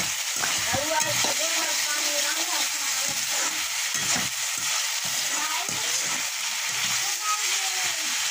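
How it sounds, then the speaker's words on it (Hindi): Masala spice paste frying in a kadhai gives a loud, steady sizzle throughout, with scraping stirs and background voices and clatter mixed in. "ये देखिए मसाला पक रहा है"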